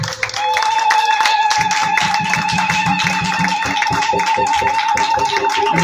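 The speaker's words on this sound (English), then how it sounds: "Let's give him a big round of applause." Live audience clapping in a hall after a young acupuncture student's presentation, a dense continuous patter of many hands that stays steady and loud throughout, with tonal sounds and some voices mixed underneath.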